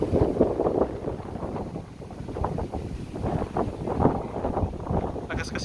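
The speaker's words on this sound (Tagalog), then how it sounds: "Lakas kasi ng hangin." Strong gusting wind buffets the microphone at a paragliding launch site in Binangonan, Rizal, a steady low roar swelling and easing throughout, with faint voices underneath.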